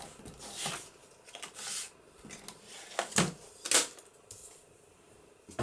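Scissors snip through paper for an 8 1/4 by 8 1/4 inch envelope in a papercraft setting, giving several soft, crisp cuts and rustles at close range.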